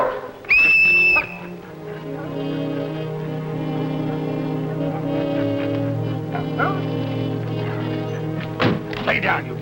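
A sharp, loud whistle calling dogs rings out briefly near the start, followed by a few dog barks under steady background music and voices.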